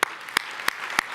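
Just a few sharp, separate hand claps, about four evenly spaced, close and crisp, with quiet room tone between them, from a small audience at a talk honoring a former U.S. Marine.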